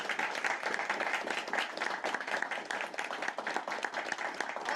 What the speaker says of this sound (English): I think maybe that deserves one more round of applause